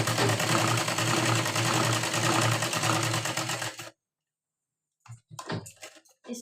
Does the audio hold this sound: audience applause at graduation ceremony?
no